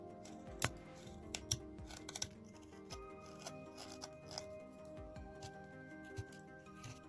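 A knife carves wood by hand, trimming material from the sides of a small snowman figurine with faint, close scraping and clicking cuts. Occasional sharp snips stand out over quiet room tone.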